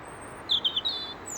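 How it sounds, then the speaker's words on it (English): Birds chirp outdoors in a short burst of four quick, high tweets, faint and somewhat distant over a soft background hush, with no talking. "Birds chirping to each other"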